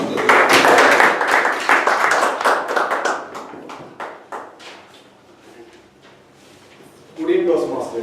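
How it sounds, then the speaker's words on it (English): Applause from a Toastmasters meeting audience: a burst of clapping that fades away over several seconds, then a voice starts speaking near the end. "Please give a big round of applause for Toastmaster Zulfikar"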